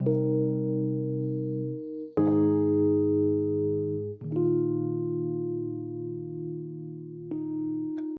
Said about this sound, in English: Okay, to start this off, I'm gonna need a piano melody,